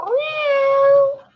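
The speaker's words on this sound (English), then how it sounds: "I wanted to hear its other meows because it's trying to get my attention." A single drawn-out electronic meow from a robotic toy cat, steady tonal pitch, close and clear, lasting over a second before cutting off.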